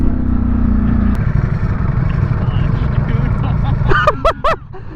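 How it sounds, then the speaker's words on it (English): A 2023 Ducati Streetfighter V4 SP2 sits idling close by with a loud, rough mechanical rattle from its dry clutch, ending as a rider's voice rises over it. "The clutch noise is unreal."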